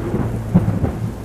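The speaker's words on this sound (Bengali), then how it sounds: "যখন স্টেশনে পৌঁছালাম তখন চারিদিকে ঝড় বৃষ্টি শুরু।" A short burst of a thunderstorm with rain: a low rolling rumble of thunder over a steady wash of rainfall, loud and close, lasting just over a second.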